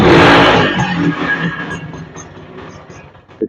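A used Honda motorcycle engine runs at idle with a steady broadband mechanical rumble, loudest at the start and easing slightly, with a brief knock near the end and no talk.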